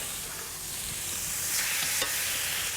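Steaks frying in a buttered pan on an induction stove, a close, steady hiss of sizzling fat with faint stirring clatter, no voices.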